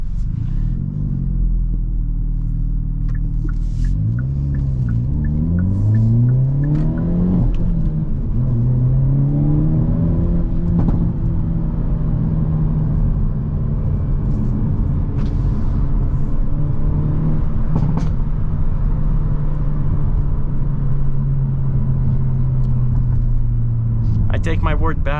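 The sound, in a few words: 2023 Hyundai Elantra six-speed manual engine while driving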